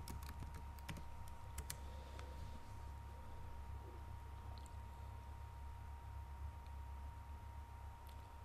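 A computer keyboard is typed on in a quick burst of close clicks near the start, then only sparse faint taps over a steady background hum.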